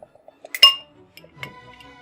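Drinking glasses clink against each other a few times, a bright sharp chime followed by softer rattles, close and alone without talk, while a triple IPA beer is being poured.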